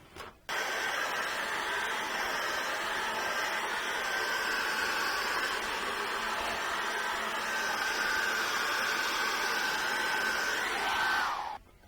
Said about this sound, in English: So as I get the hairdryer out now, because I'm going to force dry this